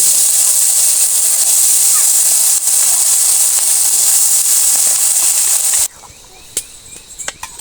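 Ground masala and curry leaves hit hot oil in a pan for village-style fish curry, producing a loud, continuous hissing sizzle that suddenly drops away, followed by faint clinks and scraping.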